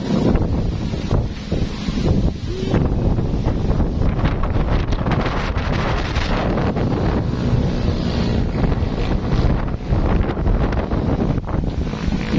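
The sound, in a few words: wind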